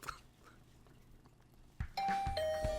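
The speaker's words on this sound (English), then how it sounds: "I woke up to the sound of my doorbell instead of the usual ridiculous announcement." A doorbell in The Hundred Line: Last Defense Academy chimes twice near the end, two clear ding-dong tones that follow a quiet stretch with a faint low hum and a soft thump before them.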